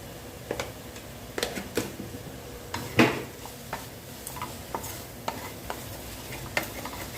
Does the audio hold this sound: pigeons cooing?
no